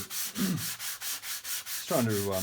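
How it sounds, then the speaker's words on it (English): Steady rhythmic sanding strokes with 220-grit sandpaper on a guitar body, back and forth with a soft abrasive rasp, close up, with a couple of brief squeaky tones partway through. "What I'll be doing is just sanding with a 220 grit paper"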